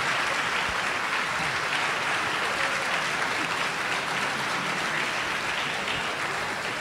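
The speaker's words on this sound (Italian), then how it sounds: "Quindi l'applauso se lo meritano tutti." A festival audience gives sustained applause to the technicians, a thick, even wash of clapping that holds at steady volume throughout with no talk over it.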